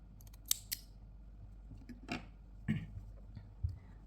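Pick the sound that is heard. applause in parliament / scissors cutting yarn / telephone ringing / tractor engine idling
scissors cutting yarn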